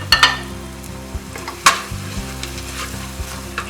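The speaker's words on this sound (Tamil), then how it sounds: "இஞ்சி பூண்டு நல்லா வதக்கிடுச்சு." Ginger, garlic and slit green chillies sizzle loudly in hot oil for a mutton biryani. A utensil stirs and scrapes through them in several sharp clanks over a continuous close frying hiss.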